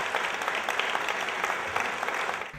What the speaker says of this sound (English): Please give a warm applause to Rebbetzin Heller.